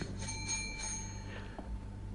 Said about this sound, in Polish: Co to, dzwonek?